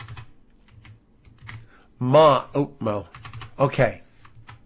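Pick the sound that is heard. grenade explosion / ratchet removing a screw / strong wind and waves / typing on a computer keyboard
typing on a computer keyboard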